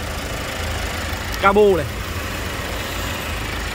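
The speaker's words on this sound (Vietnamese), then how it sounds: "Máy đang nổ, em Việt đang để nổ thì các bác có thể thấy là máy nổ rất là êm." A diesel car engine idles smoothly and evenly in the background, a low steady rumble beneath someone speaking close by, with no revving.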